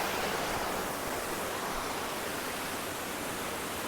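Waterfalls cascading at the Rock Garden in Darjeeling, a steady broadband rush of falling water that fills the whole moment without pause, loud and constant with no voices.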